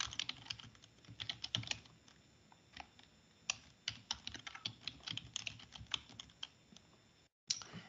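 Fingers typing on a computer keyboard, a close run of irregular key clicks and taps with brief pauses, ending in a short silence.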